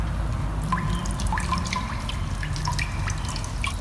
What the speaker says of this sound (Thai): เนี่ยอันนี้เราก็จะใส่จริงๆนะน้ำร้อน